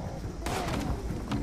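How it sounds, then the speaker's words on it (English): A gunshot rings out in the video game Fallout 76, a single sharp broadband crack followed by a second fainter report, heard amid a woodsy ambience. "that's a gunshot."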